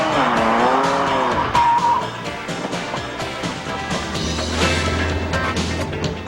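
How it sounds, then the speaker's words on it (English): A Ferrari F40 with its 3-liter 470-horsepower V8 skids on a Pirelli tire test track, long wavering tire squeals over engine roar, with sustained screeching and a deeper droning engine note later. "It's used exclusively by Pirelli to evaluate new tire designs. And what more powerful car to test them on than the Ferrari F40?"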